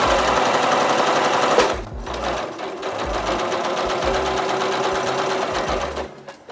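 Sewing machine stitching a dress seam between notches, loud rapid rattling stitching that runs steadily, eases briefly, then continues before stopping.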